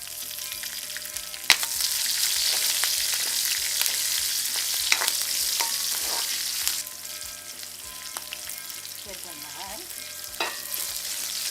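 Green chillies and fennel powder fry in hot oil in a pan with mustard seeds, giving a continuous sizzle and crackle, punctuated by several sharp utensil knocks and stirring scrapes over about eleven seconds.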